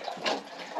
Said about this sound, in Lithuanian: vandenokį pilsiu